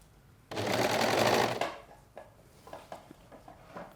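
A sewing machine sews elastic onto the bottom edge of fabric in one loud, fast whirring burst of about a second, close up. Soft handling clicks and rustles follow.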